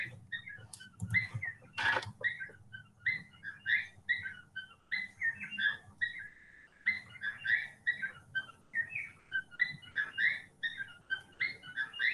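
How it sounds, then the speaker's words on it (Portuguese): Small bird chirps in quick repeated bursts, bright and fairly close, with a faint low hum beneath and no talking. "eu só tô ouvindo esse barulho de passarinho da casa da Laura"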